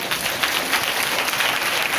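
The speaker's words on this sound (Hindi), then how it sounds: "जोरदार ताली बजा के" A church congregation applauds steadily, a dense wash of clapping that holds at even loudness throughout.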